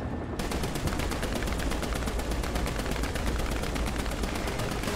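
Loud, continuous rapid gunfire from the War Thunder video game, fired at a helicopter from an M901 vehicle, with the shots packed into a steady stream that runs for the whole five seconds with no talking.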